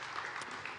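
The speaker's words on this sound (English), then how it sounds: "Round of applause." A brief, steady wash of audience applause at a conference closing session, even and moderately loud throughout the short moment.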